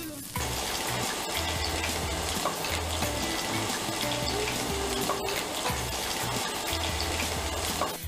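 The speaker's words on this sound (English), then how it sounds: "We're done battling the oil and we are done deep frying." Vegetable tempura deep frying in hot oil gives a dense, steady sizzle and bubbling crackle throughout, loud and close, with a low background hum and no talking.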